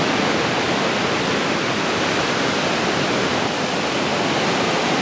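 Water rushes steadily outdoors as a constant broadband hiss without pauses, close and fairly loud, with no voices over it.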